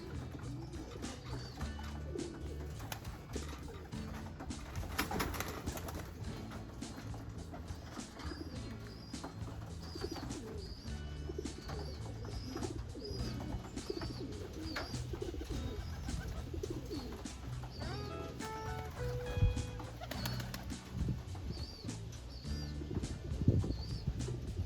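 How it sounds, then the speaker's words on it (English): Roller pigeons let out of their loft, soft low cooing repeated among chirps and occasional wing flutter, fairly faint and close, with a steady outdoor background. "I'm going to let the roller pigeons out."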